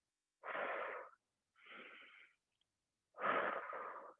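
Three forceful exhaled breaths during a standing upper-body shoulder workout, each about half a second to a second long and separated by short pauses, heard close and clear with no talking.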